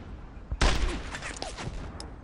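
Gunfire from the WWII shooter game Brothers in Arms: Earned in Blood, a sudden loud burst of rifle shots ringing out with rumbling echoes, then a few fainter follow-up shots.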